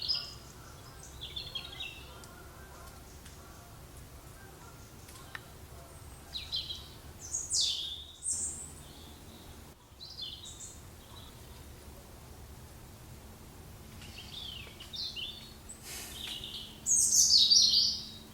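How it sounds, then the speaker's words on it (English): Birds chirp and tweet in scattered bursts against a calm, windless outdoor background, with a livelier cluster of song near the end. "Can you hear all the birds?"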